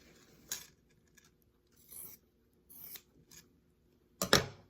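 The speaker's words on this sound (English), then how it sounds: "cut that little triangle piece that's outside of the stitch line we just did" Sharp scissors snip off a small triangle of quilt fabric, about four short crisp cuts spaced apart, the last one loudest and closest, with quiet pauses between.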